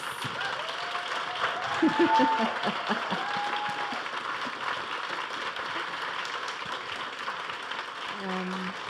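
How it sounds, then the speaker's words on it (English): Audience applause at a talk, a broad round of clapping from the crowd that runs for several seconds, with some voices and light laughter mixed in near the start. "Please give Nani a huge round of applause."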